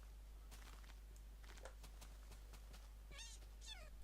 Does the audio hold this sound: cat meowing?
yes